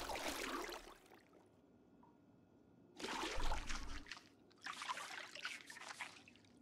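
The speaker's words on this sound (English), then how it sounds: "I will wash all my clothing and myself while the water's still on" Water trickles and splashes in the video game Project Zomboid while clothes are washed. It comes in two louder bursts with a softer running stretch between.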